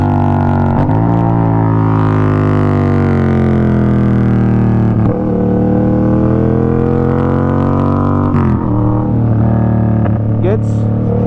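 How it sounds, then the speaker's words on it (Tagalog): A Yamaha MT-07 motorcycle engine drones loud and close while rev-matching on downshifts, its tone swelling and sliding in pitch with each throttle blip between steadier stretches. "So, clutch, bomba, baba ng gear. So yun, mag-rev match yun."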